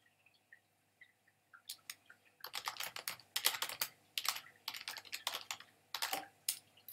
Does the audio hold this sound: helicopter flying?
no